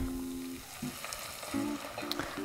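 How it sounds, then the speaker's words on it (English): Dry white wine poured into a hot pan of browned sausage, butter and olive oil, giving a steady close sizzle and frying hiss with brief stirring scrapes, no talking. "we're going to deglaze with about a 1/4 cup of wine. This is just a dry white wine."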